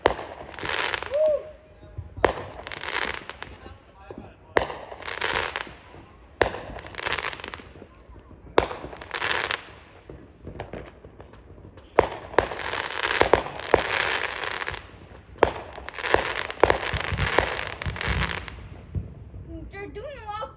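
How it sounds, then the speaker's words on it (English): Fourth of July fireworks burst in the sky in repeated loud volleys of booms and crackling, some rapid like firecrackers, with people talking and cheering between and over the explosions. "They're doing a lot of fireworks because it's the last day of fireworks."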